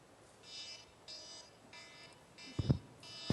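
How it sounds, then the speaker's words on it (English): An alarm ringtone plays from a phone as repeated pulsing electronic tones, faint and somewhat distant, with a few louder thumps toward the end. "It's simply called alarm."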